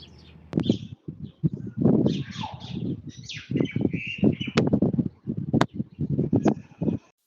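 Several birds chirp and call in irregular bursts, some short sharp notes and some fluttering phrases, fairly close and clear over a quiet background.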